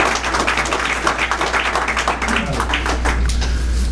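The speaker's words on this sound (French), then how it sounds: "Que je demande d'applaudir le frère Antoine et moi-même" A ceremony audience gives a lively round of applause, with many hands clapping close together in a fluttering, sustained burst that stays fairly loud throughout.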